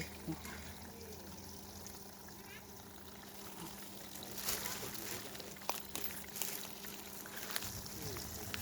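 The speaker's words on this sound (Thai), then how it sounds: "เสียงน้ำไหลแรง ลงมาจากภูเขานะคะ" Water flowing down from a mountain rushes steadily and strongly throughout, a continuous broad hiss with occasional brief knocks and splashes on top.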